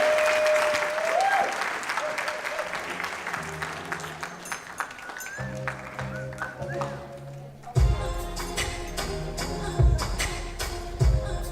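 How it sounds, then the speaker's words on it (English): Wedding guests applaud after a speech, with a crowd's clapping mixed in with background music and tonal sounds. The applause comes in uneven bursts, grows denser and louder toward the end, and is heard fairly close. "Can we have another round of applause for Sonia, please?"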